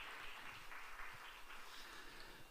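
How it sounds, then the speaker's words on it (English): An audience applauds the helpers on stage at a Dreamers Academy victory event, steady broadband clapping sustained for a couple of seconds, heard from within the room. "Let's give them a round of applause."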